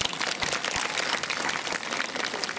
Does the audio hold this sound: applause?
yes